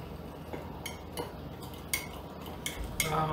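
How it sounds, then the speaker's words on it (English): Spoon clinking and scraping against a pot while stirring tea with eggs, a few light metallic taps over a soft steady background, alone without talk. "Oh, I'm stirring left-handed."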